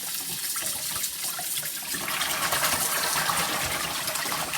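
Tap water gushes steadily into a large sink being filled with sudsy water for soaking a long knitted scarf, a continuous close, broadband rush that grows fuller partway through.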